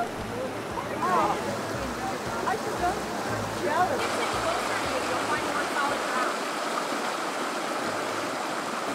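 Steady rushing water from the Whitewater River, a constant broadband wash with low rumbling underneath.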